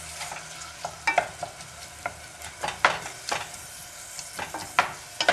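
Onions fry in olive oil in a pot, a steady close sizzle broken by repeated sharp scrapes and clacks of stirring at irregular intervals, with no voices.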